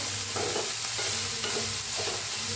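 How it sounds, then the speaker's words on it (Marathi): Moth beans (matki) roast in a little oil in a pan, a dense steady crackle and rustle as they are stirred, loud and close with no voice. "मटकीला जरा भाजून घेऊया आपण थोडंसं होतं तेल भा भाजून घेऊया"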